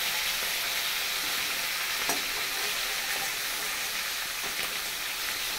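Dhela fish frying in oil for a curry with bori, flat beans and potato, a constant loud crackling sizzle like heavy rain, with a couple of faint clinks, close and unbroken.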